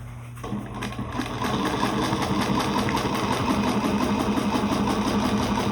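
Sewing machine stitching the seam of a shoulder bag at a 4 mm stitch length, a steady close mechanical whir with rapid regular needle pulses that runs continuously, with a quieter start in the first second.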